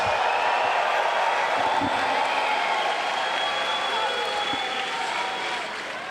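A large crowd at the Pokémon TCG Senior Finals of the 2025 Pokémon World Championships applauds and cheers continuously, a dense wash of clapping and shouts that fades slightly toward the end.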